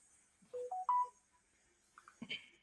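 A phone being dialed: a quick run of four or five stepped keypad tones, close and clear, then a brief rustle and a few louder handling clicks toward the end.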